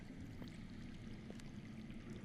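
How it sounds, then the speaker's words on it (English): Water flowing underground, a steady faint rushing wash heard from a distance, continuous and even, with no talk. "I hear water. From underground."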